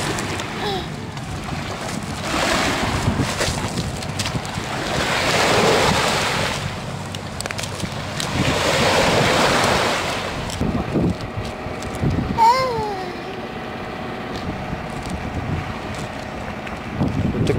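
Sea waves wash over a pebble beach at Khosta near Sochi, with broad swells of surf noise rising and falling under steady wind buffeting the microphone and a faint voice near the end.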